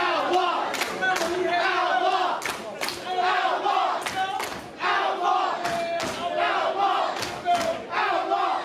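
A crowd at a professional wrestling match for an X-Division championship bout shouts and chants in rhythmic bursts, loud and dense, with a few thuds from the ring and a commentator's voice mixed underneath.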